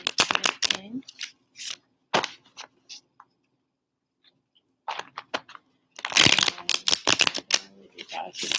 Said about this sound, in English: And you guys with the sounds of shuffling.